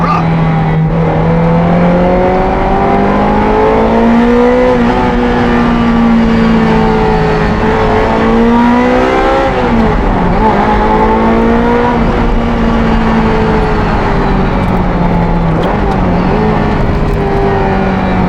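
A Ferrari F355 Challenge race car engine roars loud and close on an open road, revving and holding high pitch with rising and falling pitch through gear changes, filling the whole stretch almost without letup.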